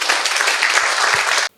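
An audience at a staff training session on serving etiquette and table manners claps together in dense, steady applause that stops abruptly after about one and a half seconds.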